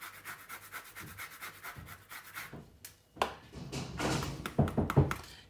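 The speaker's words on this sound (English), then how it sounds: "I reckon I might whack a bit of lemon zest in there" A lemon zested by hand while garlic prawns are prepared, close rhythmic rasping strokes in quick succession, then louder scraping and knocking thuds mixed with scattered handling noise.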